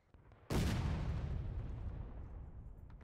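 A single cannon shot from an artillery piece in the Civil War game War of Rights, at a recreated Antietam battle near the Sunken Lane, landing as a sudden loud boom followed by a long rolling echo that fades out.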